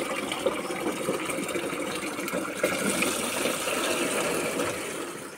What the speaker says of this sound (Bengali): একটু বেশি করে জল নিয়ে নিচ্ছি